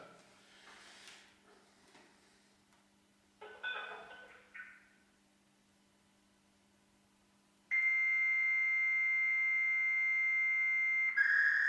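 After some faint rustling and brief sounds, a steady electronic telephone ringing tone starts and holds continuously, clear and moderately loud, as a call to a helpline rings.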